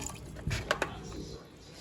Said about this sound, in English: I also added a little bit of water twice, and now I'm doing a little bit more